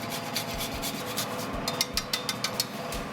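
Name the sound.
grating nutmeg over an egg custard tart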